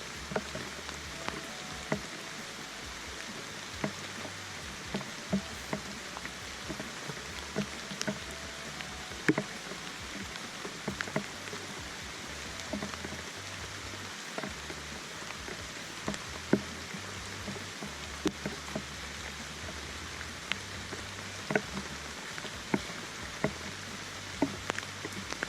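Rain falling in steady soft patter with scattered louder drips, faint and continuous throughout, heard from a sheltered spot outdoors with occasional small clunks.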